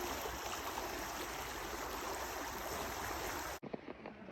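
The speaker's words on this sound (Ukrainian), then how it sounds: "Дуже люблю цю річку. І це місце дуже люблю шум води" Steady rushing of flowing water fills the clip at close range, a constant broadband wash that cuts off abruptly near the end.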